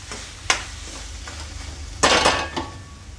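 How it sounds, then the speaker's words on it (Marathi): Cooked vegetable being served from a pan into a dish, with a few distinct metal clinks of a spoon against cookware, one sharp tap then a louder cluster of scraping knocks. "आता आपण गॅस बंद करू आणि ही भाजी एका डिशमध्ये काढू."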